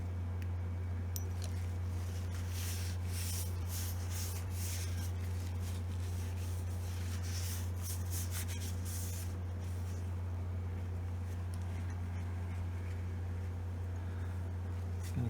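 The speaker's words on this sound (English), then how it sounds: "I'll wipe it with a little naphtha." A rag wipes naphtha over a sanded guitar finish during an Epiphone neck-break repair, producing soft rubbing swishes in the first half and then faint quiet over a steady low electrical hum.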